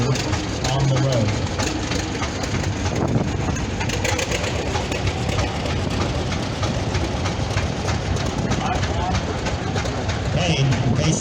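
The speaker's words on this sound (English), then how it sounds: "this is our Rumley oil pull tractor" A Rumley Oil Pull tractor with an aftermarket Bellin overdrive runs steadily at a threshing bee parade, its heavy low engine drone continuous and loud throughout, with crowd noise and talk mixed in.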